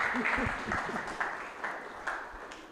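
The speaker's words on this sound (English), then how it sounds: "let's give him another round of applause" A crowd at a community meeting in Limpopo gives a round of applause, a fairly faint, rolling spatter of clapping with a few stronger pulses, after a brief voice at the start.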